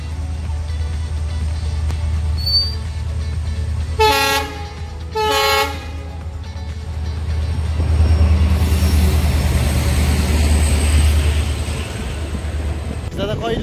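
Kanchan Kanya Express passing a rail gate near Malbazar, two loud blasts of its horn sounding close, then the heavy rolling clatter of passing wagons over a constant low engine drone.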